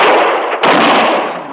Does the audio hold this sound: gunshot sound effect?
yes